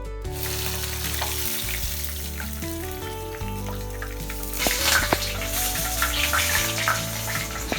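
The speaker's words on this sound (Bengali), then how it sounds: "আমি দুটো দুটো করে মাছ ভেজে নিব।" Rupchanda (pomfret) fish pieces sizzle steadily in hot oil for a spicy restaurant-style bhuna, a loud continuous frying hiss with a few sharp pops and faint clinks, no talking.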